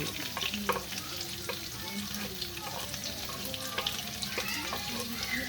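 Shallots and garlic sauté in a pan with a steady close sizzle, and a utensil scrapes and taps as it stirs. There is a faint hint of running water in the background.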